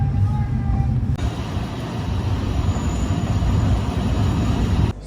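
Inside a moving wooden train in Alishan Forest, a steady low rumble of wheels on rails fills the carriage, with a high whine joining after a moment.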